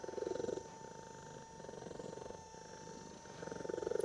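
Soft rhythmic purring from a cat being massaged with a Bob & Brad Q2 mini massage gun, a steady low rumble swelling at the start and end, faint and close with no talking.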